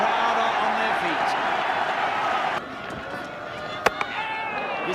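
A cricket crowd on its feet cheering a boundary to mid-wicket: a loud, sustained roar of cheering and applause that drops off partway, followed by a few sharp claps, with a commentator talking over it.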